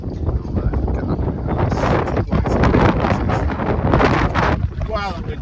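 Strong coastal wind buffets the microphone while fishing for whiting at Sunderland, a loud continuous roar with gusts swelling and easing throughout, and a brief squeaky rattle near the end.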